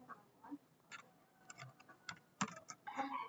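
Rapid, uneven clicking of computer keyboard keys as router configuration commands are typed, close and fairly quiet with no talk.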